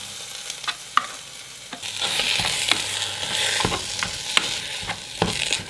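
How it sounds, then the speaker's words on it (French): Duck parmentier from a French combat ration warms in a small saucepan, a steady close sizzle and crackle broken by several scraping, clinking stirs, with no voices. "On va chauffer ça pendant quelques minutes."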